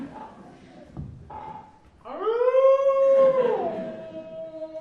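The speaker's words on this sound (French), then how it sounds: "un loup" A wolf gives a loud, drawn-out howl that rises and then holds a long, slowly falling tone, close and prominent, following a brief stretch of soft talking.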